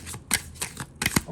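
Oracle cards being shuffled by hand, a run of quick papery riffling bursts with brief pauses between them, close and fairly quiet, with no talking.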